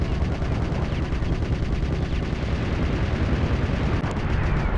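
Sustained, dense video game gunfire in a boss fight against a tank, a steady loud roar of rapid shots and blasts with no pauses, heard alone without speech.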